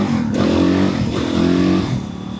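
Motorcycle fitted with a loud FMF aftermarket exhaust revving close by, two rising throttle blips with a deep throbbing bark, settling to idle.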